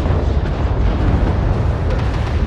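Heavy weapon impact and explosion in MechWarrior Online after a PPC alpha strike, a loud, dense rumbling boom sustained across the whole moment with no quieter gaps.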